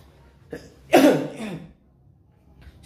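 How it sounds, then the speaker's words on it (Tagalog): A single close, harsh cough, preceded by a short throat sound, then quiet. "Excuse me, ubo lang po ako."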